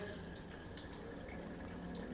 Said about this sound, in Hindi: बिल्कुल पानी कम से कम खोलें और लेफ़्ट हैंड इस्तेमाल करना है